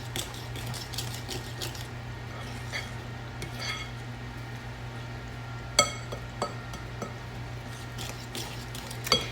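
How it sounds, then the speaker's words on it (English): A spoon stirs buttermilk into Jiffy cornbread mix in a bowl, giving soft, steady scraping with a few sharp clinks against the bowl near the middle and end of the clip. "I'm going to go ahead and add my buttermilk. And just stir that up a little bit until it's combined."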